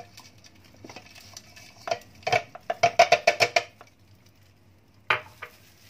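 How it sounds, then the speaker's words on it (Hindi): Browned onions are tipped into a kitchen food chopper for a beef pasanday marinade, making a quick flurry of close clattering taps and scrapes against the container, followed by one final knock. "प्याज चॉपर में डाल देंगे।"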